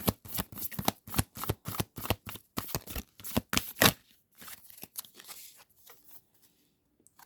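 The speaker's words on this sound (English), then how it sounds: "I'm going to do a better shuffle." A deck of advice cards being shuffled by hand, with a run of quick riffling bursts close up for about four seconds, then softer scattered card handling and taps.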